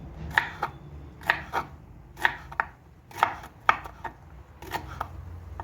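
A knife chops jalapeño peppers on a cutting board for pickles, about a dozen crisp, close taps falling in uneven pairs and clusters over a faint low hum.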